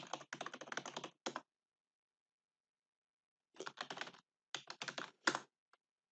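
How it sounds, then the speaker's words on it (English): Typing on a computer keyboard, close and clear, with two quick bursts of rapid key clicks separated by a silent pause and a few final taps. "Just type in Miguel at Mulasen"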